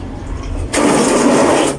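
Water gushes from a kitchen sink faucet fed by a newly installed tankless water pump. After a short quieter moment it switches on suddenly into a loud, steady rushing flow.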